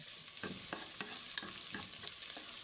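Onion, lemongrass and garlic sauté in a pan with a steady sizzle, stirred with regular scraping strokes about every half second, quiet and close.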